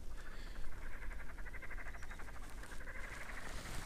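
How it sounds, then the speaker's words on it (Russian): Frogs croak by a fishing pond in spring, a dense, continuous chorus of pulsing calls heard at a moderate distance, faint overall, with no talking. "Вот на рыбалочке лягушки квакают по весне."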